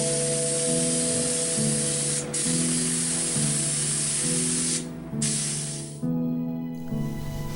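Spray gun applying 2K car body paint to large outdoor chess-piece sculptures: a loud, continuous hiss with brief pauses between passes, alone and close, over a steady pulsing compressor hum.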